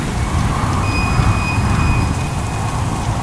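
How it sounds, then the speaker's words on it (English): Heavy rain and strong wind roar as a dramatic storm effect, a dense, loud, unbroken wash of rain with deep rumbling wind underneath and a faint whistling tone partway through. "in the midst of heavy rain and strong wind, he reached his house."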